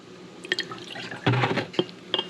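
Vinegar being poured into a General Tso's chicken sauce gives a brief liquid splash among small drips and clinks, close and quiet, with no talking.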